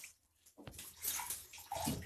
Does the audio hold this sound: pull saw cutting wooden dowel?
no